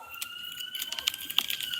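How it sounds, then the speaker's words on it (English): A fire alarm sounds in the background during an online meeting, giving a short run of shrill, repeating electronic beeps and tones against low room noise. "has a damn fire alarm going"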